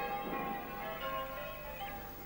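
Church bells ring faintly and steadily in the distance, heard on the morning of a wedding; a soft, continuous wash of bell tones sits behind a hiss with no talking.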